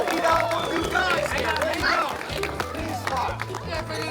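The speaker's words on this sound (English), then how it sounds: "let's give her applause" An audience applauds at a New Jersey/Delaware Bay fishing report gathering, with steady clapping and crowd noise over a loud voice talking throughout.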